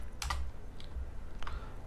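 A few separate key presses on a computer keyboard, quiet and close, with a quick double tap at the start and single clicks after it over a low background hum.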